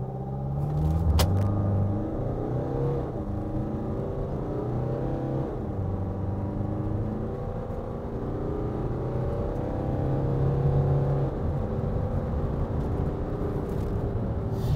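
A Hyundai Staria van accelerating hard from 0 to 100 km/h, engine drone rising in pitch through several gear changes, heard from inside the cabin, steady and fairly loud with no talk.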